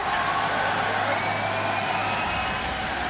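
Esports arena crowd at an Overwatch League match cheering and whooping, a dense sustained roar filling the space throughout.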